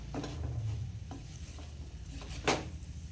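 A spoon stirs and mixes kambili lemon pickle with salt and kanthari chillies. Faint, close scraping and clinking strokes recur unevenly, with one sharper clink near the end and no talk over them.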